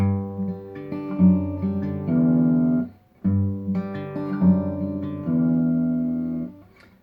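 An acoustic guitar plays a short melodic lick that descends to a ringing open low E bass note. The phrase sounds twice, close and clear, separated by a brief gap, with no talking.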